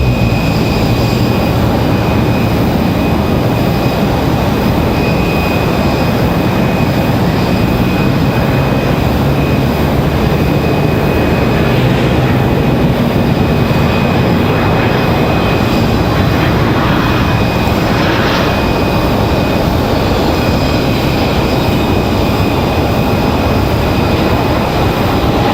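A Boeing 757 jet at Raleigh-Durham airport gives a loud, unbroken engine roar with a faint high whine, holding steady for the whole stretch.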